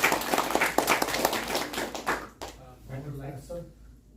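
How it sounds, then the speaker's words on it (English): A small audience at a Gita study session claps for about two seconds, with crisp, close hand claps that fade out, and then a person begins speaking. "We will give a round of applause every time somebody shares something."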